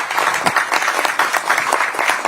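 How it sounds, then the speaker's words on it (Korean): Sustained applause from a crowd at a political party campaign committee event, dense clapping with loud irregular bursts and no speech over it. "큰 박수를 부탁드리겠습니다"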